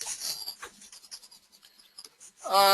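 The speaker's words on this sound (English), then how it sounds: "let me erase everything here" An eraser rubbing across a board in a maths lesson, a series of short scratchy swipes of varying strength, close and fairly quiet, ending with a brief louder burst.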